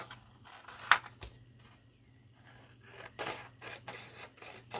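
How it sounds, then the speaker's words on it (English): Scissors rough-cutting a paper craft piece for a small pop-up project, giving close, quiet snips and scraping paper rustles in short irregular bursts. "I am just going to rough cut him out"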